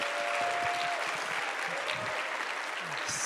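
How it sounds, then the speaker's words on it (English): Steady, dense applause from an audience fills the space, a continuous wash of clapping with no pauses. "Can we have another round of applause for Tanaya?"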